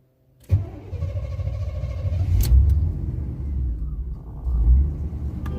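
A truck with no air conditioning, running a lawn mower fuel pump, cranks and fires up with a sharp start, then settles into a steady low rumbling idle that surges and sags a little, recorded close with no talking.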